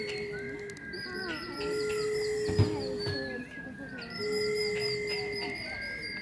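Small birds chirp and whistle in a forest park, with clear tonal calls and trills repeating close by over a soft background, and no talk.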